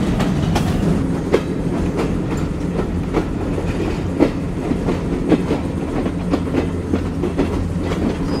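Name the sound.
Rocket Mail train leaving Khulna station on a curve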